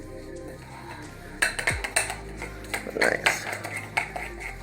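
A quick last stir of food in a pot sends a short burst of close metal clinks and scrapes from a spoon, coming after a quiet stretch, with a brief spoken word over it.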